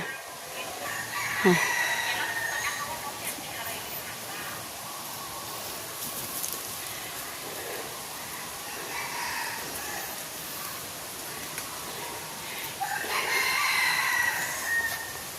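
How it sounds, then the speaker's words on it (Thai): Chickens and pheasants in a large open-zoo aviary on a hillside cluck and crow at a distance amid a busy chorus of other birds, with a couple of louder calls standing out. "มีนก มีไก่สวย ๆ เนาะค่ะ"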